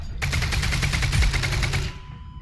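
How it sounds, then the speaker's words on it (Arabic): Rapid machine-gun fire aimed at Combine soldiers in the video game Half-Life: Alyx: a dense, loud burst of shots lasting about two seconds, then a quiet tail. "الحين نقاتل الكومباين بالرشاش"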